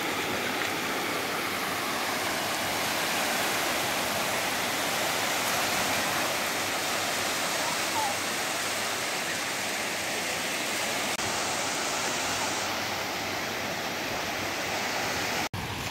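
Calm sea waves at a quiet beach near Udupi give off a steady, soft wash of surf, even and unbroken, with no voices over it.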